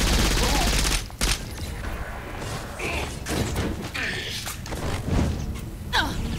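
Gunfire in Saints Row 4, bursts of shots and thumps in a busy game scene, with someone talking over much of it.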